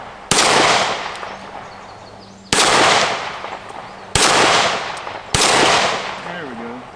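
Four loud shots from a Taurus TS9 pistol crack at a range, spaced unevenly, each trailing off into a ringing decay as rounds strike a steel target. No talking is heard.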